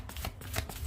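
Tarot cards shuffled by hand in short, quick riffling bursts, close and fairly soft, over about a second.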